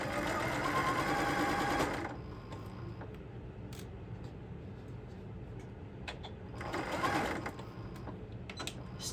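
Domestic sewing machine stitching a zipper pocket on a tote bag, running in a loud steady burst, pausing for several seconds, then starting again for a shorter run with faint handling noises between.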